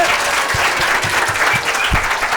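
Steady, dense applause from a large audience, loud and continuous throughout with a few crowd voices mixed in.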